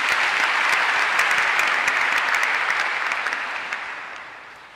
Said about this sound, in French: C'est pour nous un honneur de l'acclamer par nos applaudissements.